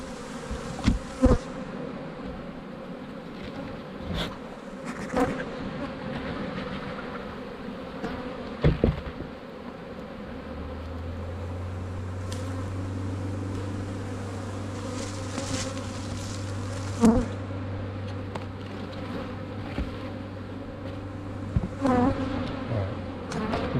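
Honey bees swarm around an open hive frame, a dense continuous buzz close up, with a steady low hum building partway through and occasional clicks and knocks of hive handling.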